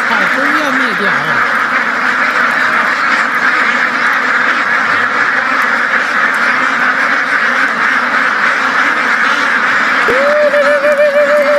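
A big flock of ducks turned loose in a field to weed it quacks constantly and loudly nearby, the calls layered thickly over one another, while a person's voice comes and goes amid the racket.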